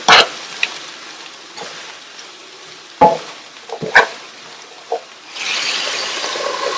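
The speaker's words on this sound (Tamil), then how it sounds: "நல்லா மிக்ஸ் பண்ணி விட்டுருங்க." Cabbage and mixed vegetables are stirred in a pan with a few sharp scraping clatters spread across the clip, followed by a steady soft sizzle near the end; no talking.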